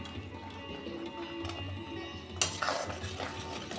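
Spiced potatoes and peas are stirred and fried in a pan for a vegetarian aloo dum, with Kashmiri chilli powder, turmeric and salt. A spoon scrapes and taps against the pan, with one sharper clatter near the middle.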